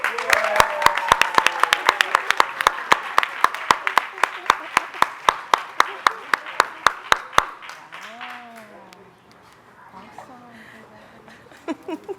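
Audience applause at an advisory board meeting, a small group clapping in a steady, fairly close rhythm for about seven seconds, then dying away into quiet room sound with a few scattered claps.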